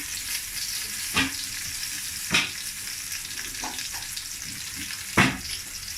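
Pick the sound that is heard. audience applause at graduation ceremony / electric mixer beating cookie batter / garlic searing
garlic searing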